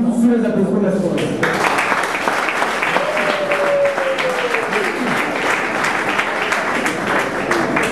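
Applause at a wedding celebration, a dense wash of clapping from the gathered guests heard under ongoing talk and crowd murmur.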